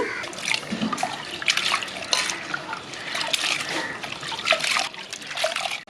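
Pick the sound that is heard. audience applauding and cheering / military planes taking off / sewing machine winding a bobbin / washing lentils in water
washing lentils in water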